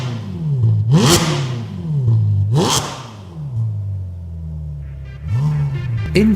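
A Ferrari California fitted with a Capristo exhaust, dampers open, revs hard in three loud bursts, each climbing sharply then falling back to a rumbling idle.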